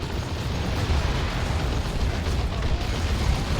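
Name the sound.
stick bombs exploding in video game Dawn of War 2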